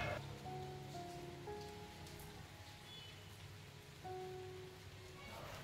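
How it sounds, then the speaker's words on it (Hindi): Steady rain falling outdoors, a continuous soft hiss of drops on surfaces, fairly faint and without talking. "यहाँ पर देखिए आज बारिश हो रही थी, इतना प्यारा मौसम था"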